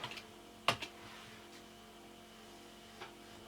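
Keystrokes on a USB computer keyboard connected to an Asus EeeBox B202 PC as a password is typed: a few faint taps near the start, one sharp louder click with a quick follow-up, then a lone soft tap later in a quiet room.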